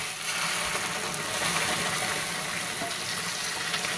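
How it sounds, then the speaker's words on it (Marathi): Hot water is poured into a pan of moth bean (matki) curry, making one continuous, even rush of liquid that is close and fairly loud for about four seconds. "ह्याच्यामध्ये आता गरम पाणी टाकून घेऊया आपण"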